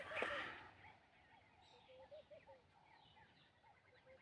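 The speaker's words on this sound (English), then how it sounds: "It's birds. It's the environment. You can hear the birds." Birdsong in the early morning around a typical African rural home, small chirps and calls scattered lightly across a quiet background, faint and fairly distant, with one brief louder rustle or knock right at the start.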